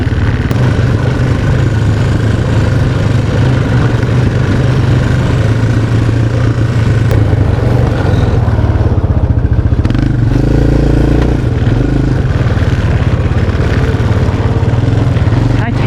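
A motorcycle rides a rutted dirt trail at the Mines & Meadows off-road park, its engine loud and close, droning and clattering steadily throughout while a rider's voice comes through now and then.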